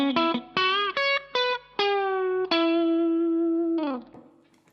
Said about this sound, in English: The lick that we're going to learn to play over our G form chord is going to sound like this.